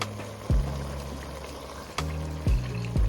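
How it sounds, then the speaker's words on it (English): Water poured into an emptied jar of Alfredo sauce to rinse it out, a few short splashy pours and gurgles, close up, in a home kitchen while making a collard green dip. "just get some water and rinse it out"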